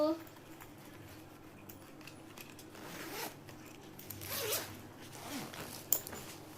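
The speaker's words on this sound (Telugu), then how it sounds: "దానికే జిప్ ఇచ్చారు" A zipper on a school bag pocket meant for a tiffin box is pulled open and shut in several quick, close rasping strokes, with quiet talking around it.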